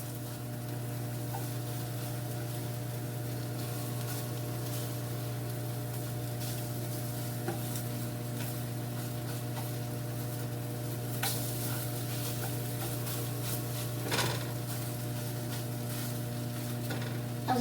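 Eggs fry in a pan on a home stovetop with a steady, quiet sizzle, joined by a few faint clicks and light clatters of utensils. No one speaks.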